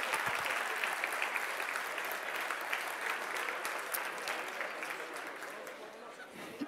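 Sustained audience applause fills an evening gathering about Mont Arthabasca, a dense wash of many hands clapping at steady loudness that tapers slightly near the end.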